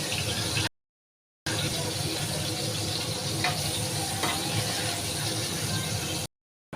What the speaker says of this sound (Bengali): তো পটলগুলো আমি ভালোভাবে উল্টিয়ে পাল্টিয়ে লাল লাল করে ভেজে নিচ্ছি বন্ধুরা